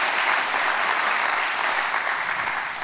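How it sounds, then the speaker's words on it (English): Steady, dense applause from a large crowd gathered for a sermon, loud and sustained throughout with no voices standing out. "Clap your hands for that."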